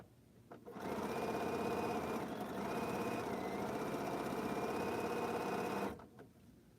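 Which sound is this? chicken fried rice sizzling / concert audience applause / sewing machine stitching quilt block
sewing machine stitching quilt block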